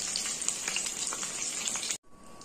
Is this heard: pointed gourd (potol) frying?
yes